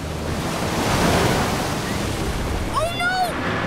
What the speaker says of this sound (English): The waves are getting closer.